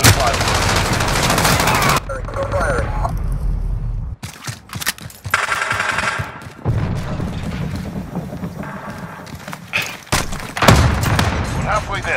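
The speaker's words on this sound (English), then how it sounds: "UAV beginning fire." A UAV opens fire in Call of Duty: Modern Warfare. Loud, dense bursts of automatic gunfire and heavy shots with booming impacts keep going almost without a break, with only brief quieter pauses and game voices underneath.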